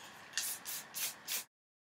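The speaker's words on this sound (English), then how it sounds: "just secure it with some hairspray" Four short bursts of hairspray from an aerosol can hiss close to the microphone, each a quick puff with brief gaps, then silence.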